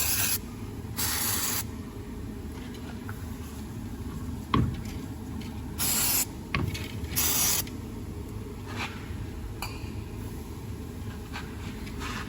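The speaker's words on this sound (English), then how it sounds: "just give that a good spray with a bit of WD-40, some penetrating oil" WD-40 penetrating oil hisses out of a spray can onto a propshaft universal joint of a Mitsubishi L200 in several short bursts of a second or so, over a steady background hum.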